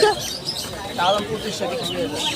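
Pigeons chirp and coo at a bustling pigeon market in Fatullah, Narayanganj, with their calls close by and mixed under nearby people talking.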